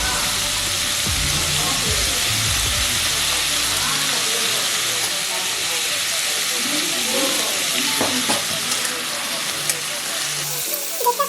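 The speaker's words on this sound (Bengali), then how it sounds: "আলুগুলো আমার অনেকটাই ভাজা হয়ে গেছে।" Diced potatoes dusted with turmeric sizzle in an oil-filled pan while being cooked for ghugni, a steady close hiss with occasional scraping stir sounds, easing slightly toward the end.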